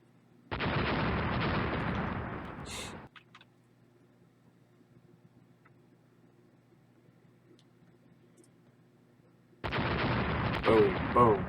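Warship guns in a fleet battle in the Rule the Waves naval game let off two heavy, roaring salvos that each rumble for a few seconds, with a quiet stretch between them.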